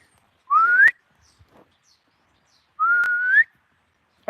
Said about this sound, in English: Let's see if I can whistle her and get her over here.